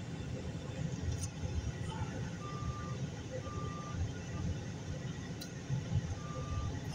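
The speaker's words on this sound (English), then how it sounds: "Truck backing up in the other lane." Truck reversing beeps while backing up in another lane on a busy road, a few faint, evenly spaced tones heard from a distance over a steady traffic rumble.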